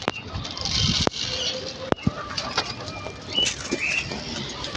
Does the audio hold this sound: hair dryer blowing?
no